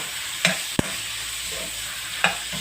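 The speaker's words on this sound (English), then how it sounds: "just basically saute it for it to be cooked well and timed" Pad kra pao stir-fry with ground pepper sautéing in a pan, a constant bright sizzle broken by a few sharp spatula scrapes and one knock against the pan, no voices.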